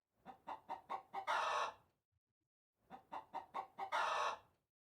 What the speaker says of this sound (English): Oh my gosh, chickens!